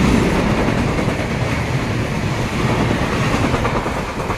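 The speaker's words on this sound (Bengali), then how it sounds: "এই ডিব্রুগড় এক্সপ্রেস চলে গেল" The Shalimar to Dibrugarh Express rolls past close by, a loud continuous rumble with rapid clickety-clack of wheels over rail joints filling the whole stretch.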